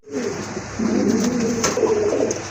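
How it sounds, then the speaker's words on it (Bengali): A pair of sky-blue Rajgolla pigeons coo softly and repeatedly at close range, low rolling throaty calls in a quiet indoor setting with no talking. "মাশাআল্লাহ আরেক জোড়া রাজগোল্লা কবুতর"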